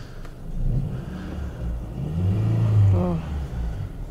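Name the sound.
Peugeot 407 Coupe engine starting and running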